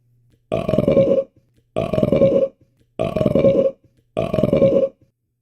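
Four long, loud, deep burps come one after another at an even pace, each lasting most of a second and separated by short silences, close to the listener with no talking.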